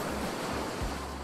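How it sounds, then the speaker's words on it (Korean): Ocean surf washes against the shore in a continuous, fairly close roar with a gusty, windy edge and no voices. "뒤에 파도 봐요."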